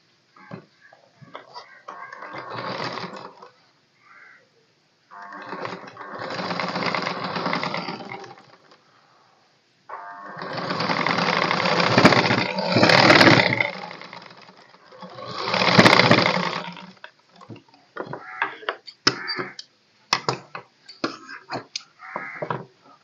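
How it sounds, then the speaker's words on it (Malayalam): A sewing machine stitches a trouser waistband and back piece in several bursts of rapid, buzzing rattle, each a few seconds long, separated by pauses and light handling clicks, close and clear. "കാലിഞ്ഞ് പോയിൻറ്റും വീതിക്ക് ഞാൻ തയ്ച്ചെടുക്കുകയാണ്"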